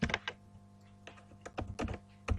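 Keys clatter on a computer keyboard in short, irregular bursts as a name is typed, close and fairly quiet, with brief pauses between groups of keystrokes.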